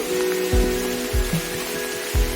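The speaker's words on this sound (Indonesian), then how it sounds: "Sekarang kita pulang dikarenakan hujan badak ini tidak kondusif." Heavy rain falls steadily in a forest, a dense, even hiss with a few low thumps from nearby drops, heard close and alone without voices.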